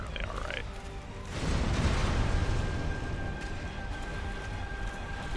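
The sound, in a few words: explosions in the Dark Souls video game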